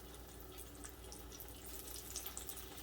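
Cornstarch-coated venison pieces sear in hot olive oil over medium heat, giving a steady, close hiss with scattered crackles and pops and no voices.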